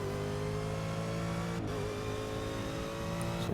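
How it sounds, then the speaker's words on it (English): Racing engine of a Corvette Daytona Prototype in Forza Motorsport 6 at Sebring, a steady loud drone that dips briefly at an upshift before climbing again in the higher gear. "we're sliding up through the gears, up into 6th"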